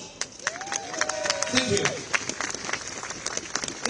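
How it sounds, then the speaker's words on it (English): A crowd at an outdoor protest in London outside the proposed Chinese mega embassy site claps in scattered, uneven bursts, with a voice speaking briefly over the applause. "Please give them a round of applause."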